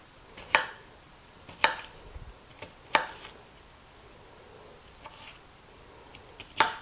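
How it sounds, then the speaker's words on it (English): A knife slices an onion into thick slices on a cutting board while preparing a slow cooker cheesy chicken and stuffing dish; about six crisp, close chops land at uneven intervals, with no talking. "Make some thick slices and then cut those."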